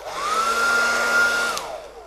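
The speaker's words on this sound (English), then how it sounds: "I get my trusty hairdryer." A hairdryer blows close and steady for about two seconds, its whine holding a constant pitch before winding down, aimed at warming a stiff action figure.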